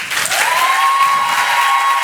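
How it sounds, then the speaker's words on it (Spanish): Audience applause welcoming a guest speaker at a university event in Córdoba, a steady broadband wash of clapping filling the whole stretch, with a faint sustained tone running through it. "recibimos con un fuerte aplauso a Gastón Ugarte"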